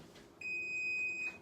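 A kitchen oven gives a single sustained electronic beep, a clear steady tone of about one second over a quiet room.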